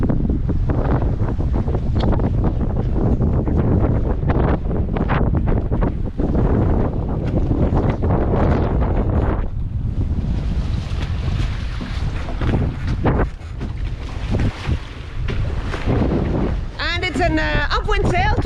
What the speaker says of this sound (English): There's 10, 12 knots of wind